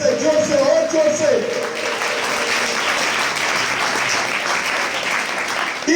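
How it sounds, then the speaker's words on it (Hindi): A church congregation claps loudly in praise, a dense, sustained wave of applause from many hands, with a voice speaking over it at the start. "जोर से ताली बजाकर परमेश्वर की महिमा करो, जोर से जोर से जोर से और जोर से।"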